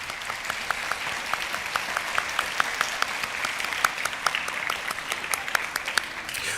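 High school spring band concert audience clapping for student scholarship recipients, sustained crisp applause in an auditorium with individual claps standing out, even and moderately near, no talk over it.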